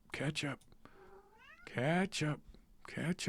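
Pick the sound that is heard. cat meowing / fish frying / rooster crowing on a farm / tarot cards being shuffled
cat meowing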